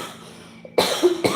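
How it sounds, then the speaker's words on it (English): A single person coughs twice in quick succession, close and sharp, after a moment of near quiet. "Excuse me, I got a cough."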